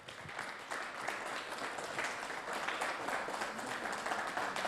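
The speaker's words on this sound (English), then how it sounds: "a huge round of applause with 138 race points" Steady, dense applause from a racing-event audience honoring the second-place finisher, a continuous broadband wash of clapping at even loudness for the whole stretch with no voices over it.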